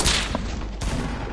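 Gunfire in the video game Fortnite, a dense burst of rapid loud shots filling the moment, with a sharp break partway through before the firing continues.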